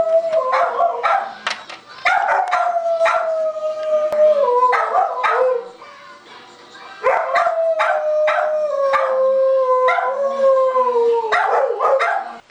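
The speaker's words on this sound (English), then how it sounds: "No more dog distracting." A dog howling long and loud up close, rising into yips and whimpering cries in repeated drawn-out bursts, with short pauses between them.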